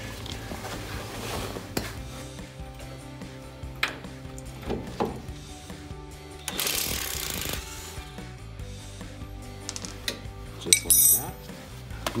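A closed-end wrench works a 21 mm suspension bolt on a Jeep Wrangler TJ, giving irregular metallic clicks, clanks and scrapes at close range, with a few louder knocks and no talking.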